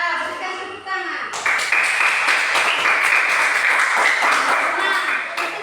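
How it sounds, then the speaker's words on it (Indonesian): After a short spoken line, a classroom group bursts into a steady round of applause that holds at an even level for several seconds, with a faint ringing tone underneath. "Ya, berikan tepuk tangan."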